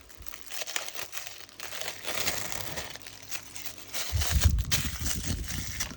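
Adhesive tape on a cross stitch piece is peeled, crinkled and pressed down by hand, a close series of soft crackling rustles and tearing scrapes that grows louder toward the end.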